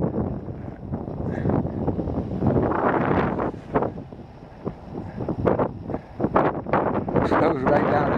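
Gusty wind buffets the microphone outdoors at a flying field where a Park Zone Spitfire model plane is flown, a steady loud roar with surges throughout, while people talk over it.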